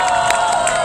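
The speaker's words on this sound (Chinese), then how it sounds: "请掌声鼓励一下" A live-music audience cheers and claps as a keyboard player from a visiting band is introduced, a brief, loud and dense wash of crowd noise.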